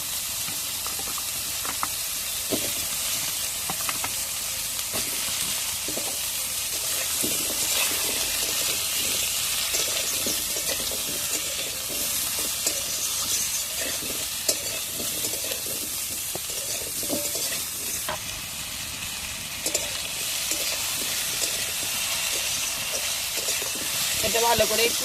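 Ridge gourd and potatoes fry in a pan with a steady soft sizzle and hiss, broken by scattered scraping clicks of a spatula stirring, with quiet talk now and then.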